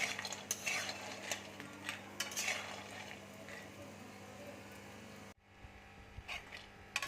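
Bori lentil dumplings fry in mustard oil with a steady low sizzle and scraping stirs of a utensil against the pan, broken by a brief drop to near silence before the stirring resumes.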